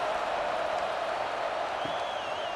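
Stadium crowd at an AAF preseason football game, Seattle Dragons at San Antonio Commanders, cheering after a touchdown drive: a dense, steady roar of many voices, loud and continuous with no gaps.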